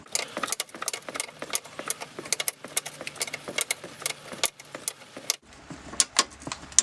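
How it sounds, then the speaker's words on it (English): Sharp metallic clicks and clinks from a spanner undoing 13mm bolts on the rear suspension anti-roll bar bush of a BMW Mini. The ratcheting taps come close and irregular, with no talking. "you just come and take off both the 13mm"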